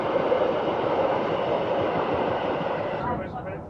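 Swiss mountain train, the Glacier Express, running steadily with a continuous broad rumble and rattle of rail transport, fairly close and sustained, easing slightly at the end.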